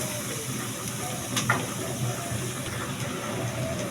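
Taro pieces go into a pan of simmering hilsa fish curry with green chilies, giving a steady soft sizzle and hiss with a brief clatter as they drop in.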